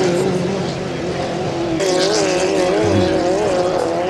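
A 2.5 litre racing hydroplane, Bad Influence, drones steadily at a distance on the water with a wavering engine tone, heard under ongoing commentary.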